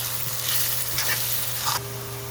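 Red onion sizzling in a hot pan for a Punjabi-style chickpea curry, a steady close crackle and hiss with a few soft stirring scrapes, no talk.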